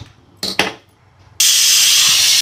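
A pressure cooker lets out a single loud, steady hissing whistle lasting about a second while green gram cooks on the stove, preceded by a couple of short clinks.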